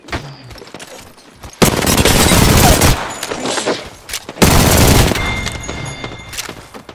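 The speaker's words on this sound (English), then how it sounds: "There may be a shooting nearby." Gunfire rattles in a shooter video game set in Capitol City, with two loud, sustained bursts of rapid shots separated by a quieter stretch of background game noise.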